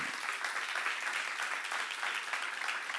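A church congregation claps together during a seminar, a sustained, uniform patter of many hands at moderate volume, unbroken and without speech over it.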